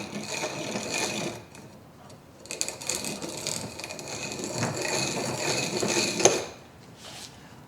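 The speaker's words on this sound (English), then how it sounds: "just for doing two pistons in a Harley, I just use my hand crank" A hand-crank piston ring filer files a ring for a Harley-Davidson M8 engine build, giving bursts of steady grinding, rasping mechanical sound with short pauses between turns, close and fairly loud, with no talk.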